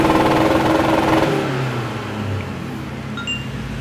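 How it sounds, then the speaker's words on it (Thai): A car engine roars loudly with the accelerator pressed fully to the floor, holding a high, strained rev for over a second before the pitch and volume drop to a lower, steady running hum, heard up close. "ลองเจ๋งลองเหยียบให้หน่อย สุดเหรอ เหยียบสุดเลยแบบค้างเลย"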